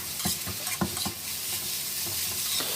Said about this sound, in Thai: ใช้ตะหลิวเนี่ยกดลงนะครับ ให้ไข่ กับข้าวเนี่ย มีความแบบคลุกเคล้าไปด้วยกันนะครับ